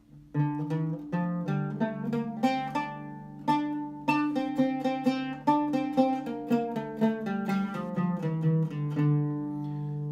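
An oud plays a melodic line alone in maqam Bayati starting on D, notes struck in quick succession with ringing, slightly nasal tones and a steady, flowing rhythm.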